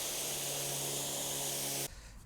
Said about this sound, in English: See how concentrated this spray is.